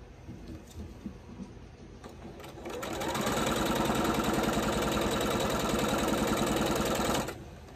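A sewing machine stitches a quarter-inch quilt seam, starting after a few soft handling sounds and running in one steady, close whir for about four seconds before stopping.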